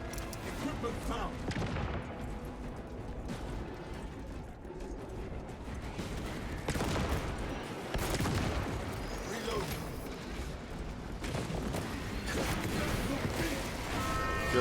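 Rapid, heavy bolt pistol fire in the video game Space Marine 2 blends with crashing combat sounds and explosions, forming a dense, continuous barrage of loud bursts.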